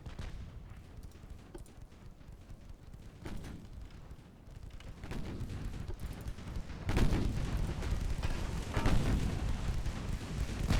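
A 6-inch naval gun firing in Ultimate Admiral: Dreadnoughts, distant booming shots and rumbling battle noise that swell louder toward the end, no talk.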